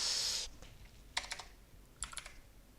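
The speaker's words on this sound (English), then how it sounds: "So if I now type in dai" Keystrokes on a computer keyboard come in two short bursts of quick clicks after a brief louder noise, close and clear with no talking.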